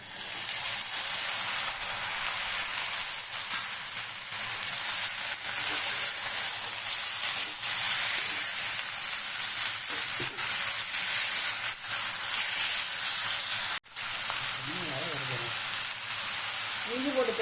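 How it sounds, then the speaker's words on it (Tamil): Chicken added to sautéed onions sizzles in a pan with a dense, steady hiss for most of the stretch. There is a brief dropout late on, followed by someone speaking over the continuing sizzle. "ஓரளவு வதங்கிட்டு இப்போ சிக்கனை போடுறேன்."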